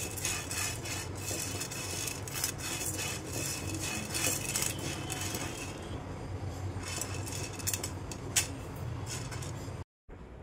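Chakali bhajani mix of urad dal, moong dal, whole rice, coriander, fennel, cumin, black pepper, cloves and poha is roasted and stirred in a pan, with repeated scraping and clinking strokes over a low crackling hiss, close up.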